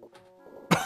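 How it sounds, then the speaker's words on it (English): A single short cough near the end, close and fairly loud, after a quiet stretch with faint background hum. "I feel like I'm about to cough."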